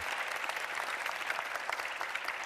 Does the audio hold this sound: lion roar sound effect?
no